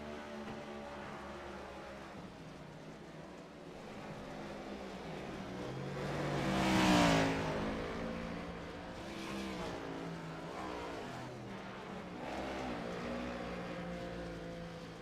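Race cars circle the Bristol dirt track on warm-up laps, a steady engine drone that swells as cars pass close around the middle, then recedes and rises again, with no one speaking.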